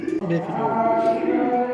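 Cooing from a pigeon in a breeding pair kept for egg-laying, low rolling calls repeating steadily and close by, with faint background noise.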